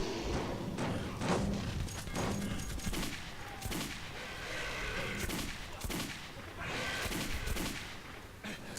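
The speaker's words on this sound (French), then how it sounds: "Continue à tirer!" Sustained gunfire in the first-person shooter Metro 2033, dense bursts of shots and heavy thuds overlapping continuously for several seconds with no pause.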